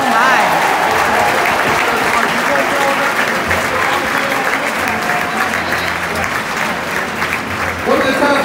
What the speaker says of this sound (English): Give a round of applause for Lance Nix.